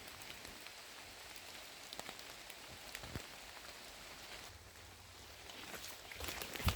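Steady, faint rain patters outdoors around an abandoned forest service living quarters on Hedgehog Mountain in northern Maine, a soft continuous hiss with scattered sharper drops and a brief thud near the end.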